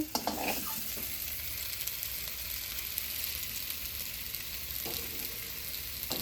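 Chicken breast pieces seasoned with salt and turmeric fry for a chicken biryani, producing a continuous close hiss and sizzle of hot oil that stays steady throughout, with no voices.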